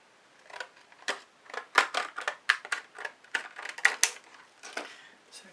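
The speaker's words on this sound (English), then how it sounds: "just cut another card." Scissors snip through a paper card at a fluid-art painting table. Close, crisp cuts come in irregular bursts, each a sharp little rasp, with no talking.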